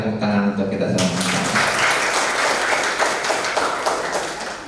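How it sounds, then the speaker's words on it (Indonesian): Applause from students and teachers at a high school project showcase at SMAN 1 Garawangi, starting after a brief sung or spoken tone and continuing as steady, moderately loud clapping from a large group. "berikan tepuk tangan untuk kita semua"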